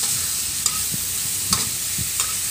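Minced pork stir-fried for holy basil stir-fry in a hot pan, a steady sizzle under repeated scraping strokes of a spatula, a few distinct clacks spaced about a second apart, close and moderately loud with no talk.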